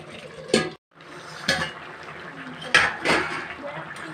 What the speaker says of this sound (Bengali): আমি এখন ঢাকা দিয়ে রেখে দিচ্ছি খানিকক্ষণ